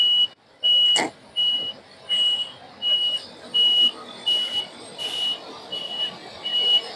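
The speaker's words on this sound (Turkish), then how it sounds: "şu anda kamyon yanaşıyor. Asfalt makinesine." Repeated high reversing beeps from a truck backing up to an asphalt paving machine, a steady pulse of around nine tones under low engine rumble and outdoor background noise.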